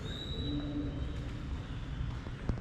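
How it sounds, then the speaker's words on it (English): A faint bird call drifts in from a distance over a low, hollow room ambience inside a convent monastery, with a brief knock near the end. "I hear a bird."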